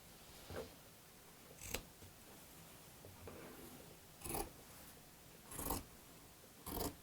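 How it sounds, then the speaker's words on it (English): Sharp scissors snip through fabric while a picture frame is being made, five or six separate crisp cuts spaced irregularly, close and fairly quiet over a soft hiss. "You want to make sure that you have a really good pair of scissors that will have a nice clean cut"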